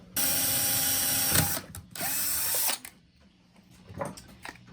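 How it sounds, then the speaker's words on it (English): A power drill whines in two loud bursts while drilling a pilot hole in a Premier 76 amplifier, then cuts off, leaving faint shuffling and handling noises. "I'm going to start by just drilling an initial pilot hole."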